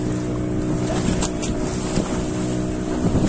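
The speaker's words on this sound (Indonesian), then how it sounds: "Kapal ini dilengkapi dengan mesin Yamaha ya." A Yamaha 15 HP petrol outboard engine runs steadily on a small fishing boat, giving a continuous close hum with even tonal drone and some wind buffeting over the microphone.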